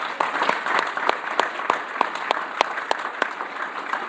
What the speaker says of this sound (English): Let's give another round of applause for Julie.